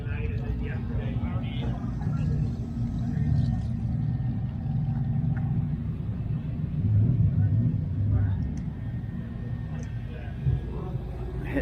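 Hemi-headed drag car at a Sick Week drag racing event in Gainesville, its engine giving a steady deep rumble throughout while people talk nearby.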